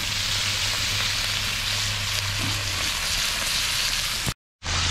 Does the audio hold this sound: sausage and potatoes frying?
yes